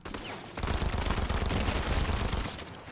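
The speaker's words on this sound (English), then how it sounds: "Take him down with these SMGs real quick." Rapid SMG gunfire in Fortnite Mobile on an iPhone 15 Pro Max, a dense continuous burst of shots lasting a couple of seconds, loud and close, after a brief lead-in.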